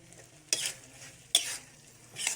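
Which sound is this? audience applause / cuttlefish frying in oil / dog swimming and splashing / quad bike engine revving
cuttlefish frying in oil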